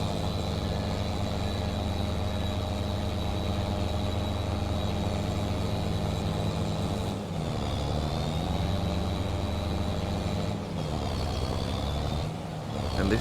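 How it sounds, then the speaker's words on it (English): Tractor unit engine in Farming Simulator 22 labouring under a heavy load, a constant low drone with a higher whine layered on top and a brief shift in pitch partway through, held at a moderate level. "And this tractor unit really is struggling."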